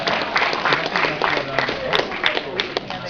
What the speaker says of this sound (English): Big round of applause for both.